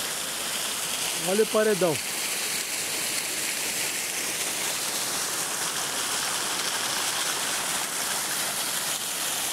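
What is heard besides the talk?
water flowing down a rock wall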